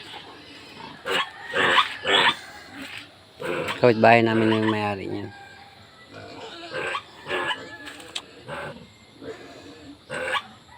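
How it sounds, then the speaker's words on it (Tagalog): Large pigs grunting, with a drawn-out squealing grunt in the middle and shorter snorts scattered before and after, heard at moderate distance while someone talks. "Malaki na yung mga baboy dyan."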